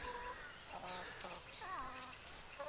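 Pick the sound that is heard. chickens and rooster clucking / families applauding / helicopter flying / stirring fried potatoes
chickens and rooster clucking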